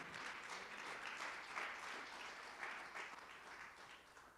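A church congregation at an evening miracle service applauding, a sustained crowd of hands clapping at a moderate distance that swells and eases slightly, with no talk.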